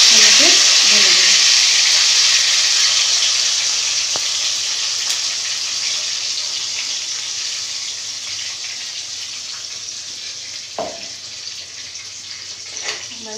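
Tomato puree sizzling in a hot kadai for Kashmiri paneer, a loud broad hiss that slowly eases over time, with a few faint clinks of a spoon near the end.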